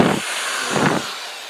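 Drill boring through an oil galley plug on a Chevy 454 engine: two short bursts of harsh, gritty, high-pitched whirring and grinding, close up, separated by a brief pause, then a fading hiss.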